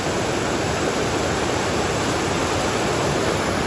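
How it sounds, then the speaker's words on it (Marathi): A water stream flows under a farmers' bridge, a constant loud broadband rush like a small waterfall, steady from start to finish with no voices over it. "पाण्याचा प्रवाह बघा"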